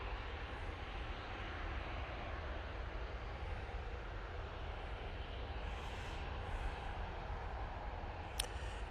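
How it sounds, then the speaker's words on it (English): An EasyJet airliner bound for Oslo taxis at Manchester Airport on a foggy day, its engine a distant, steady low roar and whine that stays even throughout, with no voices. "EasyJet to Oslo on a taxi"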